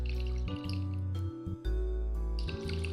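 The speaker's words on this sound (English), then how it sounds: "Need to refill my water, hold up." A video-game water glass is refilled with a steady, bubbly pour that stops once and resumes, a sustained liquid sound heard alone over a humming game soundtrack.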